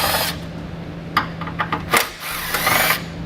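A 10mm socket works heat shield bolts loose under a 2014 Subaru Forester, giving a few sharp metallic clicks and scrapes spaced out over a steady low hum.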